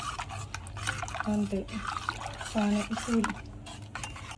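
Tamarind juice being stirred into water for panipuri, liquid swishing with clinks of a spoon against a vessel in uneven bursts, close by, with a voice speaking briefly over it.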